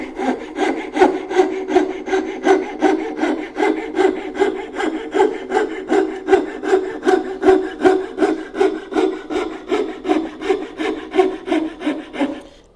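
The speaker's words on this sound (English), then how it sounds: "I'm gonna drop my fret saw all the way down to the baseline and give it a few strokes." A fret saw cuts a hand-made wooden dovetail down to the baseline with steady back-and-forth strokes, close and crisp, keeping an even rhythm throughout with no voices.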